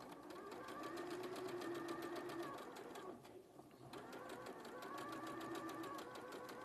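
A sewing machine stitches a quilt in steady, fast rhythmic bursts that pause briefly midway and then resume, running close and fairly loud.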